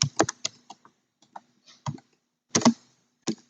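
Keys on a computer keyboard clack in short, uneven bursts as a network command is typed, close and distinct with brief pauses between clusters of keystrokes.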